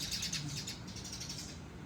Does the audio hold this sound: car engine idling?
no